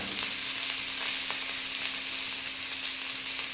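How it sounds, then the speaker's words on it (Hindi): Bitter gourd (karela) with turmeric and salt is tossed and mixed in a frying pan, a steady close sizzle running throughout with faint scraping stirs. "और अब हम इसे मिक्स करते हैं।"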